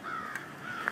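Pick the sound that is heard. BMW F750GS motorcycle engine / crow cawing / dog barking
crow cawing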